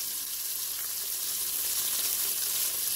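Onion pieces and lardons sizzle and fry steadily in a Cookeo multicooker, a continuous close hiss with faint stirring movement and no talking.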